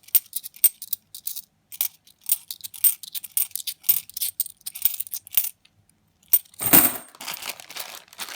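Metal 50p coins clink and rattle in quick bursts while being sorted by hand from a £250 bag, with a brief pause then a louder jangling scrape near the end.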